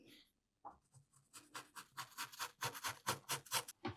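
A pen sketches lines onto tartan-patterned paper for a flip-up photo album, making a run of close, scratchy strokes that turn rapid and rhythmic partway through.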